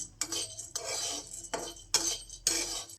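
Dry dal roasting in a pan over a low gas flame for sattu flour, heard as five bursts of scraping and stirring against the metal, close and fairly loud, separated by short quiet gaps.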